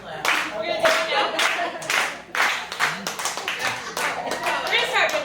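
An audience at an office panel event claps in a slow, spaced rhythm of distinct loud claps, some spreading into bursts of applause, with talk underneath.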